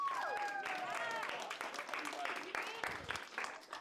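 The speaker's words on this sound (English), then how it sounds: "Round of applause for yourselves." A crowd claps and cheers with steady, dense applause, fairly loud and close, with voices mixed in throughout.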